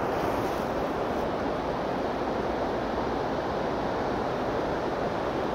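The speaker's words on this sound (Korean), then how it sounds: "여기는 폭포, 아라 폭포인가?" A waterfall gives a steady, loud, broadband rushing roar that stays even and unbroken throughout, with no voices.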